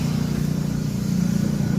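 Suzuki GD motorcycle with a converted four-pin CDI idles steadily at close range, a continuous low engine drone with an even rumble and no speech.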